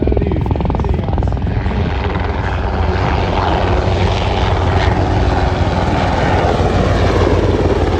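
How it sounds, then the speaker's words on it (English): A Seahawk military helicopter performs a flying display at the Avalon Airshow, its loud steady rotor thrum and engine whine continuous and close throughout. "We got a spectacular display from the helicopter right now."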